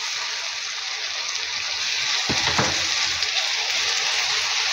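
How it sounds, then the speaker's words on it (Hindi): Steady, loud sizzling of masala with a little water frying in a pan for white chicken karahi, continuous throughout with a brief stir or clatter midway. "इसको हमने हल्का सा फ्राई करना है"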